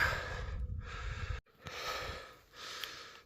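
Heavy breathing from a hiker climbing a steep Appalachian Trail mountain, three or four loud, close, rhythmic breaths with a short pause between.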